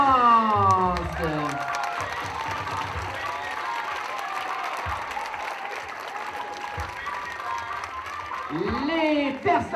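An audience at the École Marguerite-Bourgeoys school show gives performers a sustained round of clapping, with a few cheers mixed in, while someone speaks over a microphone at the start and end.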